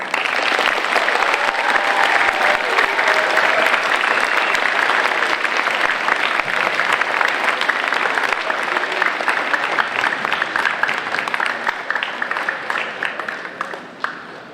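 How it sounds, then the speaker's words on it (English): Audience applause for veterans at a 2024 Veterans Day program at a school, a loud, sustained crowd clapping that fills the hall for about fifteen seconds before slowly thinning at the close. "can we give a round of applause for our veterans?"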